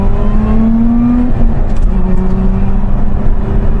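A Lotus sports car engine near the end of its break-in period hums steadily and close by, revving moderately with a rising then settling note, never pushed hard.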